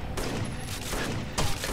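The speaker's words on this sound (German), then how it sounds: "Ein neuer Schuss" Gunfire in the video game Rainbow Six Vegas II, a burst of loud rapid shots followed by a pause and another sharp crack, close and dense with no talk over it.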